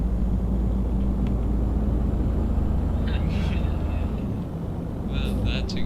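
A truck engine in Euro Truck Simulator 2 drones steadily as the rig drives, a loud continuous low rumble throughout, with someone talking over it.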